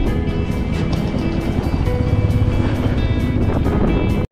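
A car drives steadily with a loud, continuous engine drone and road rumble filling the space close by, ending abruptly.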